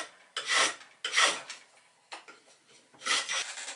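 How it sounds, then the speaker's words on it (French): A hand plane rounds the ends of a small wooden piece for a toy Vezo dugout canoe, shaping them to an 8 mm circular section. Four close, rasping strokes come in separate bursts with short pauses between them. "Je vais raboter les deux extrémités pour lui donner une section circulaire de diamètre 8 mm."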